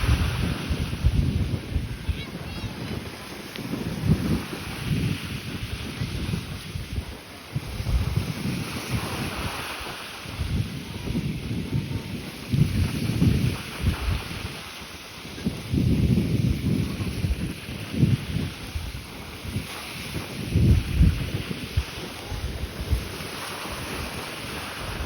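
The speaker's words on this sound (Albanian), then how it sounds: "Guys, kemi ardhur det, por fryn shumë herë." Strong wind gusts roar across the microphone at a seaside beach, heavy and continuous, with surf rumbling underneath for the whole stretch.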